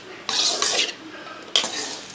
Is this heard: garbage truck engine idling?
no